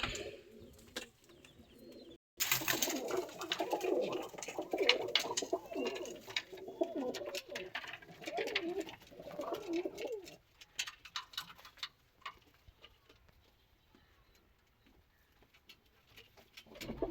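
Pigeons coo repeatedly at close range, a soft rolling murmur for several seconds, then the cooing thins out into sparse calls and quiet.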